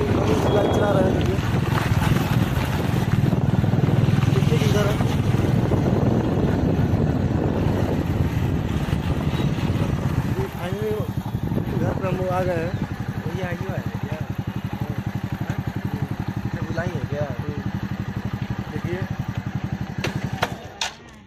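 Motorbike ridden along a road on the way to a family celebration, a steady low engine drone with heavy wind rumble throughout, loud and close, with a person talking over it partway through.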